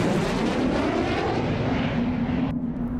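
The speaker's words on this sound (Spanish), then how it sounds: "Bienvenida, nueva flota de aviones." Airplanes from a new fleet fly overhead, a loud sustained engine roar with a steady droning hum that cuts off abruptly near the end.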